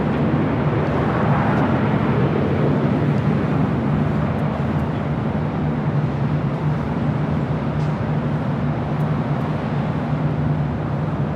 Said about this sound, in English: Next arrival is JetBlue, flight 1731, coming in from Salt Lake City in the A320